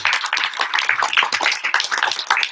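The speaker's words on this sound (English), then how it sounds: "Give her another round of applause for beautiful music." Audience applause at a live evening Q&A event, a dense patter of many hands clapping continuously and fairly close, with no voices over it.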